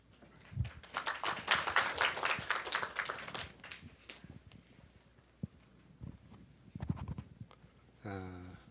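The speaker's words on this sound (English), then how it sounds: "Please welcome Dr. Lee with a round of applause" An audience at a policy conference on small-business digital and green transformation claps to welcome a speaker. The applause is moderate and fairly distant, building quickly and then thinning out over a few seconds, followed by scattered taps and room noise.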